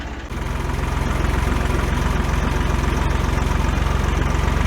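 A Fordson Dexta tractor diesel engine idling close by, with a steady, loud, rhythmic chugging knock that starts up just after the opening and holds evenly to the end, with no voices.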